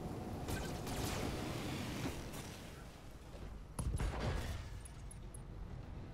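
Mech weapons in the video game Roguetech fire in a sustained volley of dense booms and crackling blasts, with a fresh loud burst midway, filling the whole stretch without speech.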